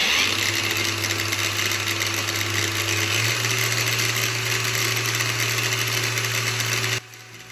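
A Nagawa CG100U cordless battery angle grinder runs steadily at a constant pitch for about seven seconds, loud and close with a strong motor whine, then cuts off abruptly near the end.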